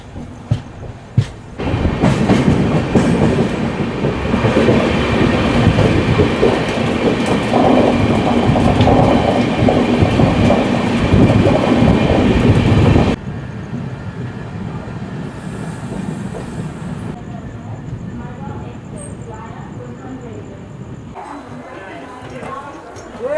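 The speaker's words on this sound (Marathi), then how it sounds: "ठाण्याला 2 मिनटं हॉल्ट करून आपली ट्रेन झाली रवाना." A passenger train on the Konkan-bound route out of Mumbai rolls along the rails, a loud steady rumble with rhythmic clatter that suddenly drops to a quieter interior hum. Voices are heard speaking over it.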